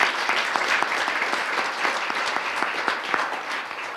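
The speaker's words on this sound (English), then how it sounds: "Will you give that search committee a round of applause?" Applause from a room of attendees at a press conference announcing Denver's new police chief: a dense, steady patter of many hands with some distinct nearby claps, sustained for about four seconds and tapering slightly at the end.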